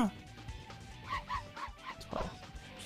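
A dog in the Simpsons Wrestling video game barks in a quick series of short yips, faint and partly under game sounds and someone talking.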